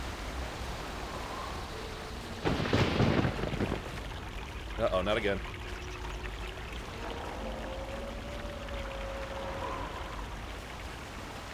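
Storm rain in the video game Knights of the Old Republic 2, a steady hissing downpour throughout, with a brief louder burst and a voice speaking over it.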